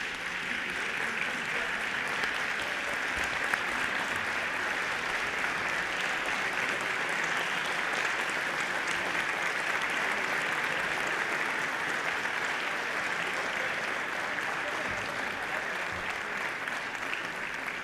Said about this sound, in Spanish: Queremos rendirles un aplauso de los asambleístas